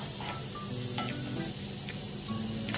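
A spoonful of butter melts and sizzles in a hot pan, a steady soft crackling hiss with faint occasional pops, heard alone and fairly quiet.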